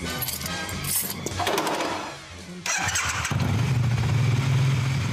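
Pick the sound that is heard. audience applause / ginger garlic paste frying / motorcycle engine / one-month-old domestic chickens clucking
motorcycle engine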